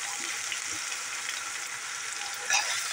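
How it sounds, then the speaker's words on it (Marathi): Finely chopped onions fry with green chilies in a pan, a steady close hiss of sizzling oil with faint stirring scrapes and a slightly louder burst near the end, no voices. "आणि कांदे गोल्डन फ्राय होईपर्यंत आपण त्याला चांगलं परतून घ्यायचं"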